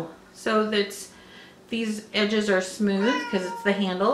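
A pet cat meows a few times between stretches of a voice as scissors are unboxed indoors; the short meows are close and moderately loud, partly overlapping the talk.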